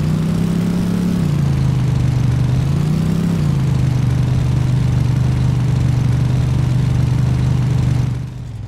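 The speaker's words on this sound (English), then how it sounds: "It's also a very noisy little car" A small, underpowered car in the video game My Garage runs with a loud, steady engine drone, rising briefly in two mild revs before settling, then dropping away abruptly at the end.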